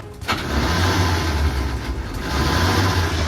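A flipped-over bus's engine cranks and catches with a sharp start, then settles into a loud, rough, rumbling run that swells slightly toward the end, close to the listener.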